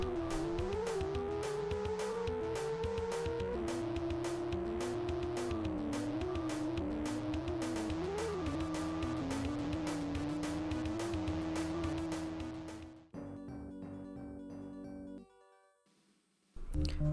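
A continuous whining, buzzy engine drone with shifting pitch, a synthesized car sound from an Atari Jaguar game, plays loudly throughout before cutting to a brief different tone.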